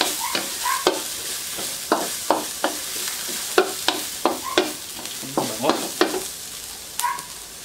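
Chopped lechon sisig is stirred and tossed in a pan, with a steady series of sharp scraping strokes over a soft sizzle, close and clear.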